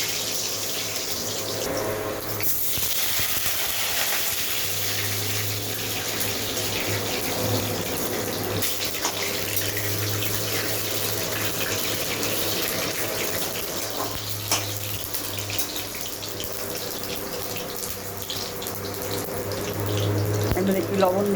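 Potatoes, some whole and some halved, sizzle steadily in hot oil for a chicken curry, giving a loud, even hiss that continues close by for the whole stretch.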